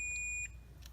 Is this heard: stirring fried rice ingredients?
no